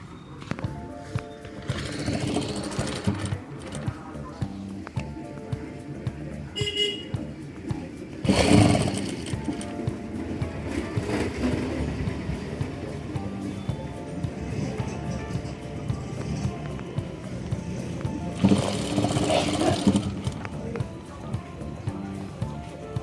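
A sewing machine stitches blouse fabric, its muffled, uneven whirring continuing through the whole stretch with a couple of louder bursts, close by and without talk.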